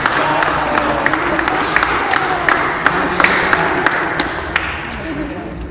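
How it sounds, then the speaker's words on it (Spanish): Applause in church after a little girl's presentation: a full, loud wash of many people clapping, with crowd murmur and scattered sharper claps, continuing steadily before easing slightly at the end. "Vamos a darle un aplauso por su presentación."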